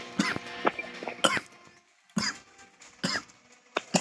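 Several harsh coughs come in short bursts with pauses between, close and loud, some sounding like throat clearing.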